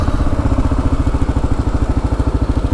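A Kawasaki KLR motorcycle engine runs on a dry lake bed with a steady, close, thumping single-cylinder rumble at a fast even pulse, loud and unbroken, with no voices.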